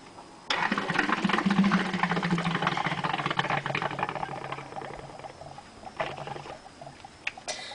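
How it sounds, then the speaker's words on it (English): A person blows hard through a hose into an upturned container in a bowl of water, pushing the water out with air. Steady bubbling and gurgling start abruptly and churn for several seconds, then a few softer splashes follow. "I'm blowing in this tube to displace the water in this bowl with air"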